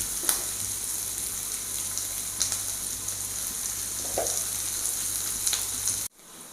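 Onions and green chilies with a little salt sizzle steadily in a pan for a curry, a continuous close frying hiss with a few soft stirring knocks, no talking, cutting off abruptly near the end.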